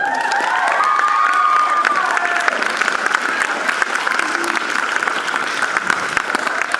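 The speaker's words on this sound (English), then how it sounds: "So Freddie Comp, I need to give him a round of applause." Audience applause and some cheering after a Frankenstein performance honoring a multimedia artist, steady dense clapping filling the room throughout, with a brief rising whistle or effect tone early on.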